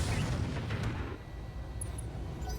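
A mech's Sniper Cannon fires in RogueTech, a heavy booming shot whose low rumble decays over about a second, followed by faint high pings of ambient game sound.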